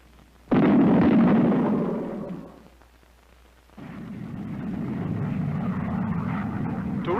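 An aircraft in supersonic flight, heard as a sudden loud roaring blast that fades, then a second sustained broad rumble that holds steady.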